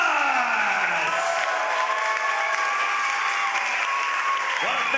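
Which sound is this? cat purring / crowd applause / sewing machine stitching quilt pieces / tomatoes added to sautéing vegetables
crowd applause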